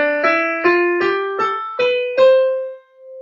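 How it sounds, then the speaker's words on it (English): A piano plays a short ascending major scale, six clear evenly spaced notes with the last one held and fading, loud and close with no voices. "So a major scale sounds like this."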